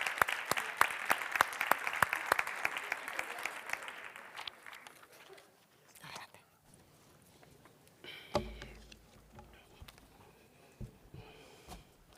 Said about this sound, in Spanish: damos un fuerte aplauso a Lucho, que va a ser él el que dé pistoleta